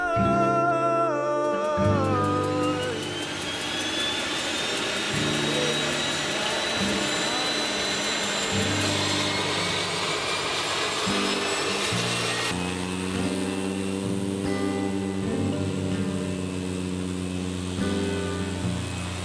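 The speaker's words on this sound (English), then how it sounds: "This airplane had already made 3 runs and was heading out for another." A propeller airplane engine on a hurricane relief supply flight drones loudly and steadily close by, its pitch rising as it revs, with a rough whirring texture throughout.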